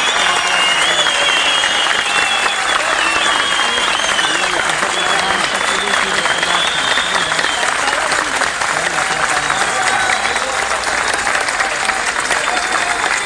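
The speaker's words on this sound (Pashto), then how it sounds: "ښې ډېرې چکچکې" A Pashto poetry recital audience breaks into prolonged, even applause, many hands clapping continuously and loudly with a faint crowd murmur and some voices underneath.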